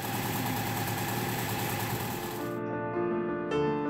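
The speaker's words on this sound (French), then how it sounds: "Et bien sûr, le moteur redémarra." A Citroën 2CV engine, restarted after long storage in a barn, runs with a steady, close idling rumble that shifts to a smoother hum partway through, with no voices.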